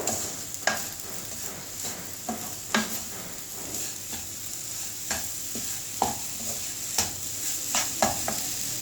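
Coconut halwa with semolina and powdered sugar is stirred in a pan, giving a steady low sizzle with repeated scraping strokes of the spoon at an uneven rhythm, close up and with no talk.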